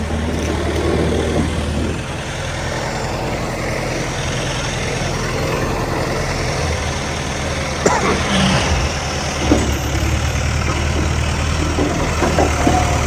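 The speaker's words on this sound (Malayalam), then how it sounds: "വണ്ടി വലിച്ചു കയറ്റിക്കൊണ്ടിരിക്കുന്നു" A vehicle crashed in a minor accident at Perunad, Koonamkara, is hauled back up with its engine running, giving a steady, loud motor drone throughout with a few knocks and voices faintly in the background.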